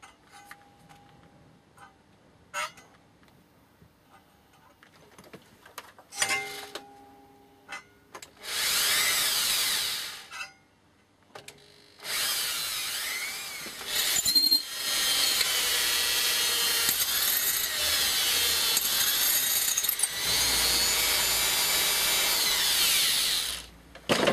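A 4.5mm cobalt drill bit lubricated with cutting compound bores into steel knife stock, heard as two loud, sustained drilling runs after scattered handling knocks, the second run longer with brief stops.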